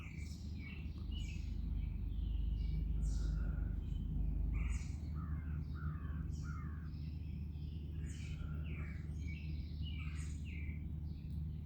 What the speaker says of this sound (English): Ooh, that's a red-winged blackbird.